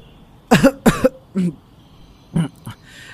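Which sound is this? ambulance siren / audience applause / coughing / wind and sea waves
coughing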